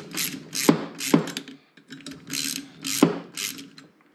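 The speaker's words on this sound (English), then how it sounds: "5/8 socket, one screw, pulls it out." A 5/8 socket on a ratchet loosens a screw from an attic fan motor, giving repeated close, loud ratcheting clicks in several short bursts with brief pauses between.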